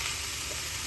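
Vegetables sautéing in a pan for chicken gumbo, a brief, even sizzle heard up close with no other sounds.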